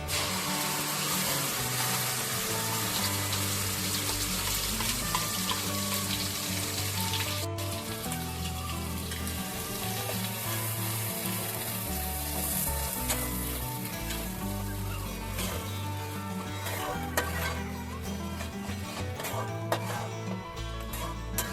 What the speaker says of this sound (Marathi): या तेलामध्ये टाकणार आहोत जिरे बारीक केलेला मसाला